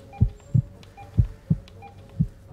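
Patient's heartbeat in the video game Surgeon Simulator, a quickening run of deep doubled thuds roughly twice per second, close and distinct over a low hum with faint beeping tones.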